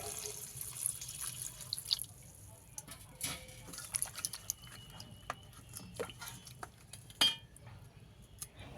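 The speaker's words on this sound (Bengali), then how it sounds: "তো প্রথমে এগুলোকে আমি এবার ধুয়ে নেব।" Pointed gourd, tomato, dried chilli and garlic are rinsed under a running kitchen tap, with a soft steady trickle, drips and small clinks of produce and utensils in the sink, fairly quiet and close.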